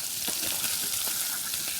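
Scallops fry in a pot that sticks a little, giving a steady, close, even sizzle with faint crackles and light stirring ticks throughout and no voices.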